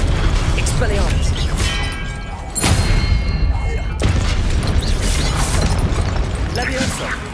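Spell-casting blasts from the wizard game Hogwarts Legacy, with Expelliarmus disarming spells bursting out amid dense, loud combat noise. A sharp impact lands around the third second, under continuous game effects, and a voice speaks over the action.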